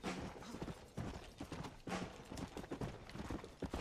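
Horse hooves clip-clop in a video game, a quiet, steady run of hoofbeats with faint background game sounds.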